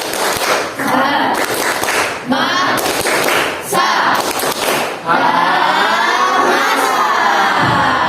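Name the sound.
class doing a rhythmic 'tepuk semangat' clapping chant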